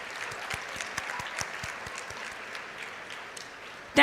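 Applause from the audience at an ICFAI university convocation ceremony, a moderate round of scattered hand claps with some louder individual claps, fairly even throughout and fading toward the end.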